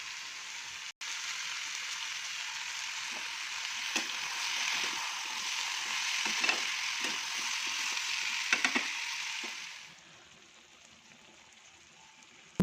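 Pumpkin and chickpeas fry in a pan with a soft, continuous hiss-like sizzle and a few light clicks, then the sound drops to near quiet toward the end.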